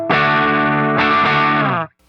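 A strummed electric guitar chord with one string slightly out of tune, run through effects with distortion and chorus, rings out loud and full, gets restruck once midway, then cuts off abruptly.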